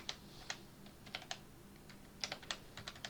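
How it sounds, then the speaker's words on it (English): Keys clack on a terminal keyboard in the Fallout 4 video game, a quick uneven run of light clicks in short bursts. The sound is close and fairly quiet, with no voices. "If I can type."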